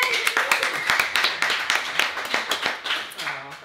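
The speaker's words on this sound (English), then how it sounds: "big round of applause for these two" Applause from a small audience for a band during an interview session, rhythmic hand clapping close by with a voice talking over it near the end.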